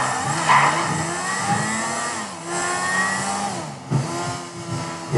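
A motorcycle engine in GTA 5 with the Realistic Driving V mod labors up a slope, its steady droning whine shifting in pitch with brief revving surges, loud and continuous throughout.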